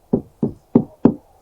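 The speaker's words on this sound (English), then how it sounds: "Personally, I just knock on it." Five evenly spaced, close, hollow knocks on a full plastic rainwater catchment tank holding about 1,400 gallons, each a dull thud that dies away quickly.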